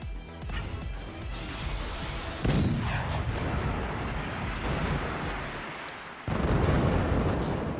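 Cannons firing in the strategy video game Forts, a dense, continuous barrage of booming artillery shots and rumbling impacts, loud and overlapping, swelling in bursts with no voices.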